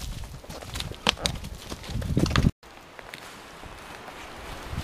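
A horse on a trail ride strikes out irregular, fairly close hoofbeats, uneven thuds mixed with outdoor noise, then after a brief cut continues with softer, quieter clopping.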